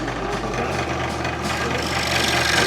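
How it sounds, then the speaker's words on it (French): A scroll saw rasps steadily through wood cutting figurines, with a continuous buzzing cut, close and fairly loud. "Une scie à chantourner"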